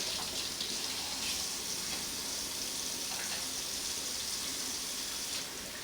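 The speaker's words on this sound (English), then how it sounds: "Wash my hands off." Water runs steadily from a tap in a continuous hiss, with small splashing changes as hands move under the stream; no talking.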